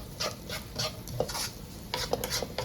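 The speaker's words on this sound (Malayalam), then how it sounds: "പിന്നെ ഒരു ഗോൾഡൻ ബ്രൗൺ കളർ ആവുന്നത് വരെ വഴക്കിയെടുക്കണം" Sliced onion with a pinch of salt sautéing in a pan toward golden brown for chicken tikka masala, stirred in repeated scraping strokes over a steady sizzle, close and fairly loud with no talk.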